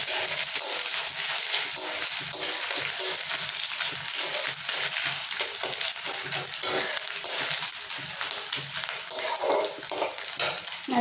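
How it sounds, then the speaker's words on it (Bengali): Chopped coconut fries in hot oil in a pan, a loud, continuous crackling sizzle with constant popping that holds steady throughout. "তেলটা গরম হয়ে গেলে আমি কতগুলো কুচনো নারকেল ভেজে নেব, একটু লাল লাল করে"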